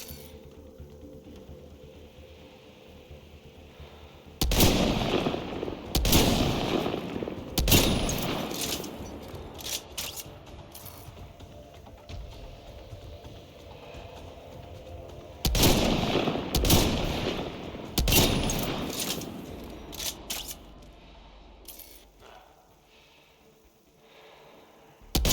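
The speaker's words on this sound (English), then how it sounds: "Switch to the fucking sniper rifle." Sniper rifle gunfire in the game Mass Effect: Andromeda, with two clusters of loud sharp shots and echoing tails, a few seconds apart, over continuous game ambience and no speech.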